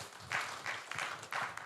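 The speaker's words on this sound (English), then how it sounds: "Please join me in a round of applause for our three ASCO-OSCE members." An audience applauds to close a session at the Africa Internet Summit 2025 in Ghana, giving short, faint bursts of clapping in a hall.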